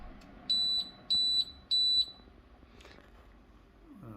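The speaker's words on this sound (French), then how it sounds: "la machine a émis son bip" Three loud, high-pitched electronic beeps from a coffee machine in a steady rhythm, each lasting about a third of a second, signalling draining is finished, followed by quiet background noise.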